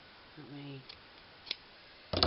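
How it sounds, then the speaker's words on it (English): Scissors give a couple of short, sharp snips while trimming material on a 1920s flapper-era dress form, heard alongside a brief voice. "just snip that off"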